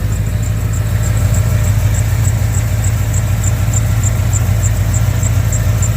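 A steady, low engine idles continuously nearby, with a constant rumble and a faint rhythmic ticking above it, from an old Ford OBS pickup truck with HEI ignition and hot headers after a tune-up.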